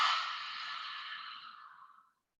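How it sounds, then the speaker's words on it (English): A single audible exhale through the mouth, an airy breathy "ha" during a yoga breathing exercise, close and fairly soft, fading out over about two seconds. "Breathe out through your mouth, making the ha sound."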